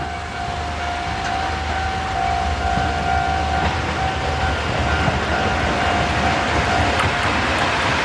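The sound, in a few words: freight train passing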